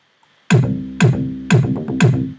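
Four long, sustained synth bass notes in Logic 9, each starting with a bright attack and ringing out to meet the next, loud and close with no talking.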